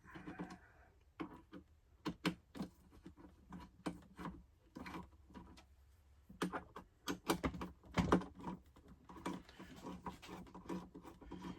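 M5 screws loosened by hand on a standard casefeeder, giving close, quiet bursts of ticking, rasping and clicking turns in quick irregular clusters, with short pauses between.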